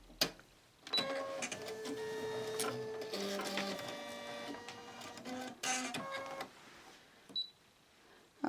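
Embroidery machine stitching white thread on an in-the-hoop Greek key tissue holder, a steady rapid mechanical whir with repeated stitch clatter running for several seconds with brief pauses near the start and end, no talk.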